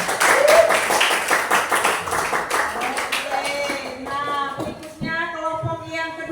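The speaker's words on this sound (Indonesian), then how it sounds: "Mari berikan tepuk tangan" Classroom applause after a student group's discussion presentation, a dense patter of claps from many hands for the first few seconds with a voice speaking over it, fading out toward the end.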